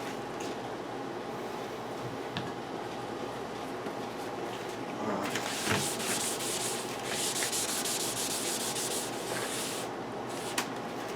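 A Jeep XJ intake manifold is ported and sanded, producing continuous abrasive rubbing and grinding that grows brighter and harsher midway, with no talk.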